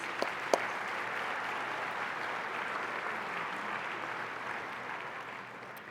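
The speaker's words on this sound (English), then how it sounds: "Please join me in giving them a well-deserved round of applause" Guests at an annual Sidewalks of New York gala evening applaud, a soft, distant wash of steady clapping with a couple of sharp claps early on, slowly fading toward the end.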